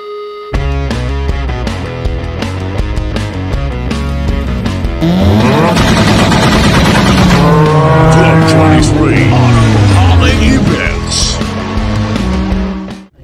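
Heavy road traffic in Ilocos Sur in late December, with cars roaring past close by, their engine notes sweeping up and down. The vehicle noise is continuous and loud, with faint voices mixed in.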